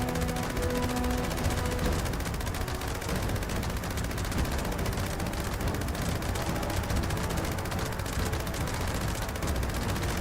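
Dense, rapid automatic gunfire in Fallout 76, loud and sustained for the whole stretch as a weapon empties its magazine, with no talk.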